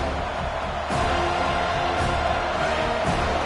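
Home crowd noise at a Florida State versus Arizona State college football game, a steady loud roar of a large stadium crowd swelling slightly, continuous with no clear individual voices.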